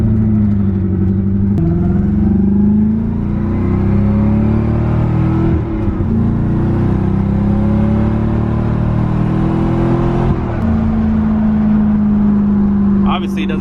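Interior sound of a Corvette ZR1 accelerating: a loud low engine drone that rises in pitch through several gear changes, with brief dips between shifts.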